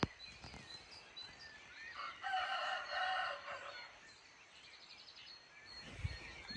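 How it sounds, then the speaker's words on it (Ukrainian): Roosters crow in the dark around 4:30 before dawn at a mountain holiday house, one drawn-out call rising midway through, fairly distant and faint over a quiet background with occasional small sounds. "До речі, півні вже теж прокинулись."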